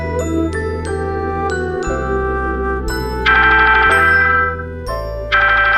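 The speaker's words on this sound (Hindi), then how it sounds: "आयुष का फोन आया है, आओ जल्दी आओ" A phone ringtone plays a bright, chiming melody of repeated bell-like notes over a pulsing bass line, loud and continuous with no talking.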